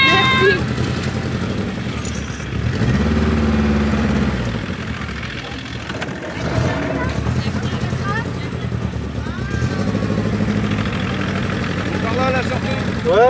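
A small moped engine, a GS motor, idles steadily throughout at a 1970s vintage moped festival in Riantec, with voices talking over the low running hum.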